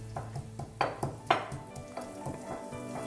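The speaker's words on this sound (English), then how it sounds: "I'm going to fry the onions" Onions for a lentil soup fry in a pan with a soft sizzle, broken by several clinks and scrapes as they are stirred, fairly quiet and close, with no talking.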